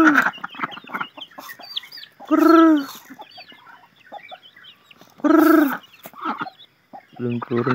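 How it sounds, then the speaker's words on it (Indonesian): Chickens cluck and chatter close by in a rural yard, with repeated bursts of quick clucking and two loud, drawn-out hen calls that stand out above the flock. "Belum turun sebagian ayam dek sana."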